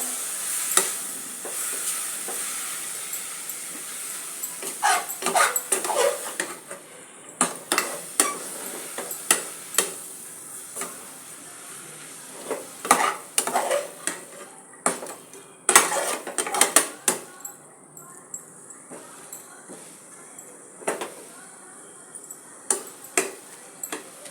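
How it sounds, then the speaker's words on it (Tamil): Mint rice is sautéed in a pan, with a spoon clattering and scraping against the metal in uneven strokes over a steady low sizzle; close and continuous, no voices. "நல்லா வதக்கிடுவோம்"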